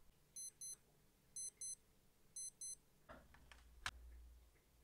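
A Casio W217H digital watch beeps as its buttons are pressed after a hydro mod, three pairs of short, faint, clean electronic tones evenly spaced, followed by a few soft handling clicks.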